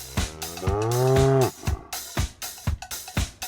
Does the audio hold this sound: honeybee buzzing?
no